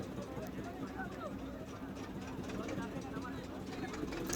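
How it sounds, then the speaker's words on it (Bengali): A motorboat being turned near the river ghat at Mukundanagar, Chakdaha, its engine giving a steady low throbbing hum throughout, with people talking nearby. "তো এই যে নৌকাটা ঘোরানো হচ্ছে,"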